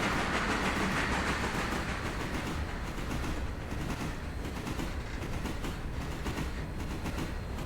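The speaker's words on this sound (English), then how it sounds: "I'm going to turn this locomotive. I'm going to turn the other locomotive that's sitting down there." Locomotive running in the Railroader game, a steady rumbling roll with a faint rhythmic clack of wheels, constant and fairly loud throughout with no talking.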